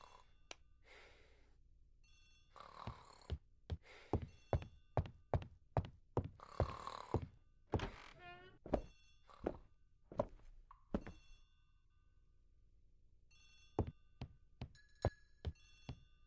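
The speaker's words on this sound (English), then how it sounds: "The telephone in the hall is ringing." A telephone rings in the hall of a house in the Agatha Christie: The ABC Murders game, heard as a run of sharp repeated bell bursts with short gaps, fairly close, with footstep-like thuds mixed in and no talking.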